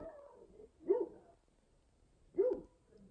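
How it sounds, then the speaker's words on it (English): Dogs howling at the moon on a night trail run, heard as two separate rising howls about a second and a half apart, moderately loud at a distance with no talking in between. "I think they're howling at the moon."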